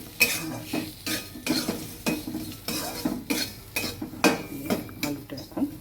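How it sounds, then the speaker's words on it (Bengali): Potatoes with turmeric frying in a little oil over a medium-high flame, a soft sizzle beneath a steady rhythm of spatula scrapes and clinks against the pan, close by. "আলুটা এখন ভাজা হবে।"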